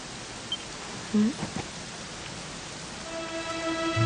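Steady rain in the role-playing game Dragon Quest XI, a soft, even hiss that carries on beneath a few short tonal game sounds and a rising musical hum near the end.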